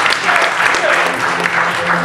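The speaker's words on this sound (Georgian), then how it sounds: "კეთილი, კიდევ ერთხელ აპლოდისმენტებით გავაცილოთ Black Eagle Brazilian" An audience at a Brazilian jiu-jitsu grappling event claps in a short steady burst of applause while an announcer speaks over it.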